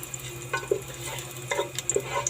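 Onions brown in a pan before garlic goes in, a faint, low sizzle broken by a few soft stirring scrapes and clicks.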